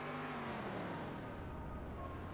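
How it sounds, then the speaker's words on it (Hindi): Car engine in a video game drones continuously at full volume, a steady mid-loud rumbling roar with no pauses, heard alone. "गाड़ी की आवाज़ ज़्यादा आ रही है,"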